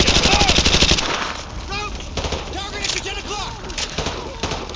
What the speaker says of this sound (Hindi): गाड़ी में दो तीन गोलियां मार, अब तो फटी गई हो